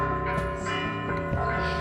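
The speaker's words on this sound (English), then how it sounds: "That's some impressive bell going on." A church bell rings near an old church in Mexico, sustained metallic tones with layered overtones sounding at moderate distance, with no talk over them.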